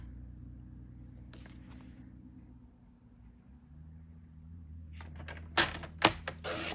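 Scissors cutting a square of 6 x 6 paper into shapes, a few crisp snips near the end following quieter handling of the sheet over a low steady background hum.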